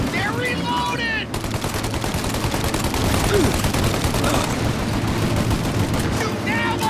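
Sustained gunfire from a shootout in the video game Mafia: Definitive Edition, dense rapid volleys of shots rattling continuously and loudly, with a brief lull near the start and other sounds mixed in.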